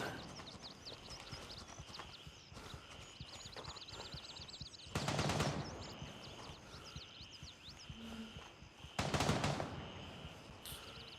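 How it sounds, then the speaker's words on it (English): Two loud bursts of rapid gunfire in the video game Gray Zone Warfare, one midway and one near the end, over a steady hum of background noise, birdlike chirps and clopping sounds. "I did hear some gunfire over on the far side of the base"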